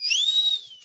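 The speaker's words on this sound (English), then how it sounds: "Oh, this is a double whistle time." A single clear whistle blast marks the start of a new chapter in an online chemistry class, bright and fairly loud, sliding slightly in pitch and then fading, with no talking over it.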